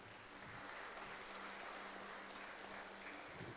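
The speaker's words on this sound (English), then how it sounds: "I think the little boy deserves a big clap" An audience at a Good Friday church service gives a little boy a round of applause, a soft, steady wash of clapping heard from a distance with no voices over it.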